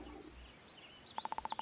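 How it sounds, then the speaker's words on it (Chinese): A short bird call in a video game park scene: a quick run of about seven evenly spaced, faint high chirps near the end, heard alone after a quiet moment. "小鸟的叫声"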